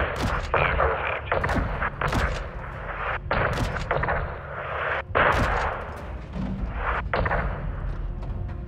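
Heavy artillery and gunfire from a Call of Duty Modern Warfare 2 battle: repeated loud booming blasts and rattling shots, close and dense, over a constant roar, with faint radio-like voices.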